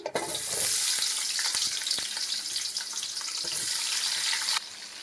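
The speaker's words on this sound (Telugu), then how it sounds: "ఆయిల్ అయితే వేడి అయిందండి. ఆనియన్స్ యాడ్ చేస్తున్నాము." Chopped onions go into hot oil in a pan for a fish curry, setting off a loud, steady hiss and sizzle that carries on without pause, close up and with no talking.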